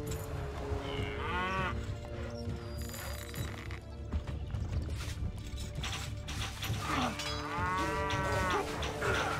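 Cattle moo repeatedly in a Stronghold: Definitive Edition game, two drawn-out lowing calls standing out clearly over a busy bed of game music and ambience, with no talk.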